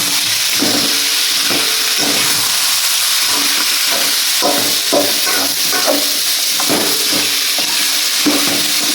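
Spices tempering in hot oil for an egg chicken curry, a loud steady sizzle and crackle with small spattering pops throughout, heard on its own without voices.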